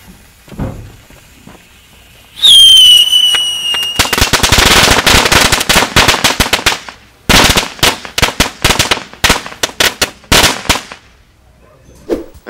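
Orion F2-category firecrackers going off outdoors: a whistling firework rises first, then dense rapid bursts of loud bangs crackle in volleys, pause, and resume as separate sharp explosions, close and loud with no talking.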